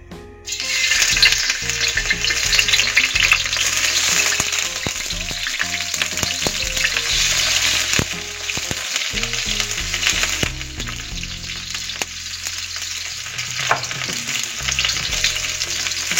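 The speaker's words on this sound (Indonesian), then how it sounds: "Kita masukkan bawang putih dan bawang merah." Garlic and shallots frying in hot oil in a pan, a loud, continuous sizzle with bursts of crackle and scraping stirring over about sixteen seconds, no talking.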